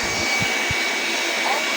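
A mini electric fan blows hard with a steady, loud broadband whoosh, close up and continuous throughout, with no talking over it.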